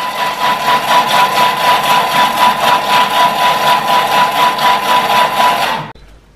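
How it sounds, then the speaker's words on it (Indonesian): An electric mixer beats eggs and honey for German lebkuchen, giving a loud, steady whirring motor hum that runs without a break for about six seconds before cutting off. "Telur dan madu di mixer ya."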